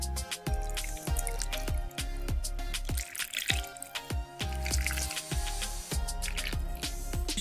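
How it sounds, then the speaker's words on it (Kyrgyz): Prepared tomato sauce poured into a pot of potato and meat stew, giving a run of close, repeated wet drips and plops in an uneven rhythm. "Даярдалган соусубузду куюп алабыз."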